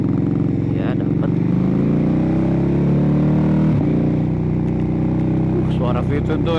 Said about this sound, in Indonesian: Tapi emang menurut gua nih suara motor ini sangat natural dan sangat raw sekali ya.